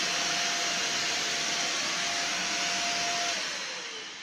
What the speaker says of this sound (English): Let me hoover the landing.